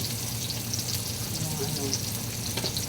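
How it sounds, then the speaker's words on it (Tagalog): Onions frying in a pan with a steady, dense sizzle throughout while a voice talks over the cooking. "Lutuin natin ang sibuyas."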